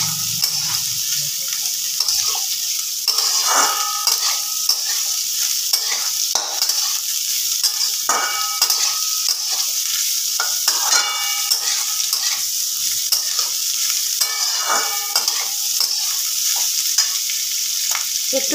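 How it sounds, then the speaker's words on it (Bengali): Vegetables for fried rice stirred in a hot pan, a constant bright sizzle broken by repeated scraping strokes of a spatula against the pan, close and steady without talk. "একটুখানি নাড়াচাড়া করে নিয়ে এর মধ্যে নুন দিয়ে দিলাম।"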